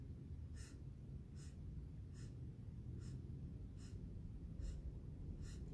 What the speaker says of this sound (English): 8 sniffs in.